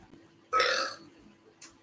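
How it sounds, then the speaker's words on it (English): A woman lets out a single loud, close burp lasting about half a second, with a brief fainter sound following shortly after in an otherwise quiet room. "My girlfriend just burped."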